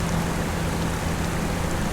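Steady rain from a realistic weather mod in Farming Simulator 25, a dense continuous hiss of falling drops with a faint low hum underneath and no pauses.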